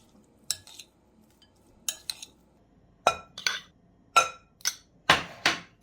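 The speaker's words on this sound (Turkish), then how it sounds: "Tekrar karıştırıyoruz." Spoon scraping and clinking in a bowl while sauce is stirred into a chicken bulgur salad, a series of short sharp bursts in small clusters, close and crisp, growing stronger toward the end, with no talking.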